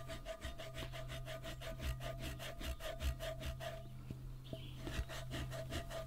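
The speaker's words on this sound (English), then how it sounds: "The first step is to begin scraping away the rust with a rust eraser." A rust eraser scrapes rust off a cast iron pan in steady, repeated back-and-forth strokes. The rasping is close and continuous, with a constant background hum and a brief pause near the end.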